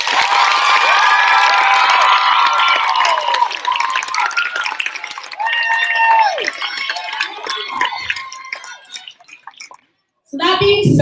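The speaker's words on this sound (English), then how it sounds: "give her a round of applause that she can hear for her work" An end-of-year recital audience applauds and cheers loudly, with whoops and shouts over dense clapping that eases off midway. It drops to near silence before a brief louder burst at the end.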